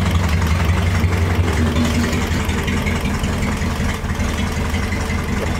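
A 1960 Mercedes-Benz 190B engine idles steadily and loudly right after its first start in 50 years, a close, even low rumble with no talk over it.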